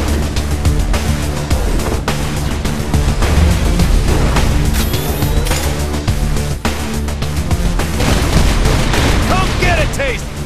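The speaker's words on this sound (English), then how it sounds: "the White House turret" Heavy turret gunfire from the White House turret in Saints Row 4, sustained dense bursts with booming impacts and explosions throughout a loud, chaotic game battle.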